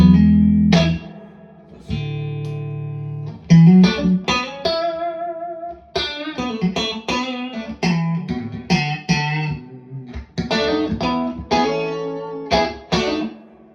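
A clean electric guitar through a Fender Deluxe Reverb tube amplifier plays a series of chords and single notes, each ringing out and decaying, with no voices.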